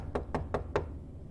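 Knocking on a plain wooden door: four evenly spaced, firm knocks close by, followed by quiet.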